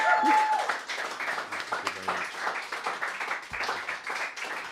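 Small audience applause for a musical duo, uneven clapping from a modest crowd, fairly close, continuing for several seconds with faint voices mixed in.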